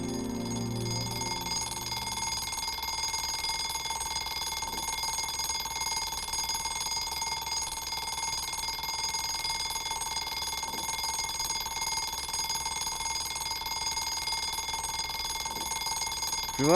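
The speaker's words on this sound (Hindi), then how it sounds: "अलार्म बंद कर दे यार। बजने देना।" A morning alarm clock rings continuously with a steady, bright electronic tone, close and unbroken for the whole stretch, with faint background noise and no talk.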